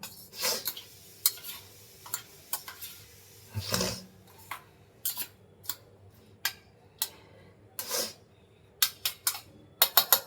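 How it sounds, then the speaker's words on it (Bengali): Food being mixed by hand in a bowl in a Bengali home kitchen: scattered soft clicks, taps and scrapes come at an irregular pace, fairly quiet and close, with no talking. "মাখিয়ে নেবো।"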